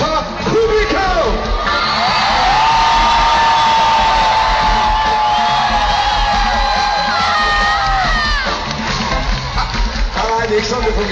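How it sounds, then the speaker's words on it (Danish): A festival crowd at Smukfest 2010 roars with loud, sustained cheering, whoops and whistles, dense and close throughout, rising after the opening seconds and swelling again near the end. "Jeg vil gerne have aftens største bifald."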